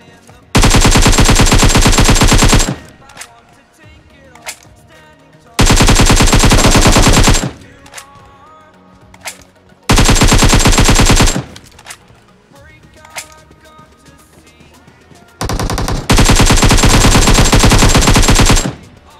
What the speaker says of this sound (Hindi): तभी यहाँ पर मुझे गन की फायरिंग साउंड सुनाई देती है